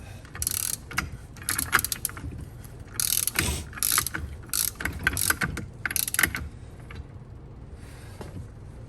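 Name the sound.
torque wrench tightening KX125 crank gear nut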